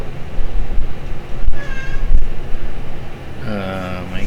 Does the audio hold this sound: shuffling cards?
no